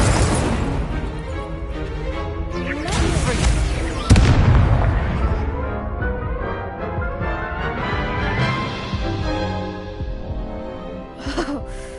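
Confringo explosion spells cast in the Hogwarts Legacy video game burst loudly amid a dense mix of combat effects and music, with a sharp blast standing out near the middle and more bursts following.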